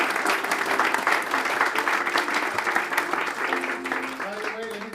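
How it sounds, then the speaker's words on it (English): Audience applause for the band at a book debut event, steady dense clapping lasting throughout with voices and a few tonal sounds mixed in underneath. "please applaud for them"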